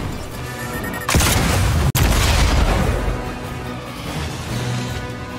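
Loud booming blasts and crackling bursts of blaster fire in an intense battle in Star Wars Jedi: Survivor, with one sharp cutout midway and sustained noisy effects throughout.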